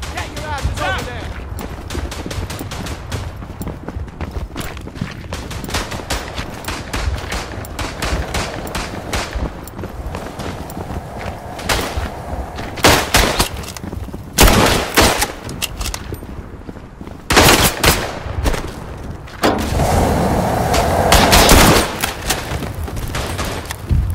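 Trench gun fire in the video game Verdun, with rapid repeated shots and wider gunfire from the battlefield running through the whole stretch and heavy bursts near the end.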